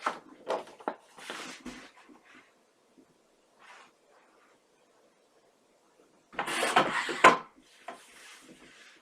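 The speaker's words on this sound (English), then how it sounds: "let's cut our flap, the 5 3/8 by 6 3/4" A paper card flap measuring 5 3/8 by 6 3/4 inches is cut, with a few light scrapes and rubs near the start. One louder, close, rasping swipe of about a second follows later, and there is no talking.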